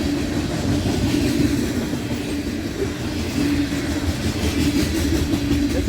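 A Norfolk Southern freight train hauling grain, ethanol and corn syrup cars rolls past close by, its steady heavy rumble and rhythmic wheel clatter filling the whole stretch without a break.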